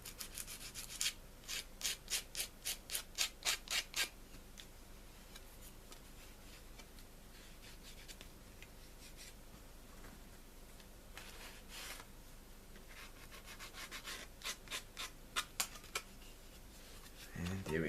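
Hand sanding of a B-29A scale model, with close, quiet rhythmic scratchy strokes in quick clusters and quieter rubbing between them.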